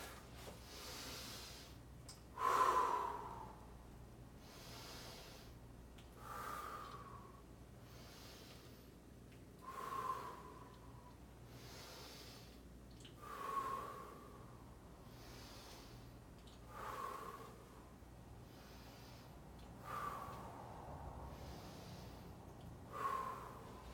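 During incline curls at the gym, a person does breathing exercises: sharp, forceful breaths and exhales repeat about every three to four seconds, close and fairly quiet, with no talk.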